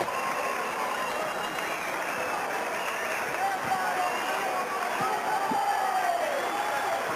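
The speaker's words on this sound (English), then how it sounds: "Enormous round of applause for both of those players" A large crowd at an Australian rules football match between Glenelg and West applauds continuously, a dense wash of clapping from a distance with scattered cheers, and a voice speaking over it.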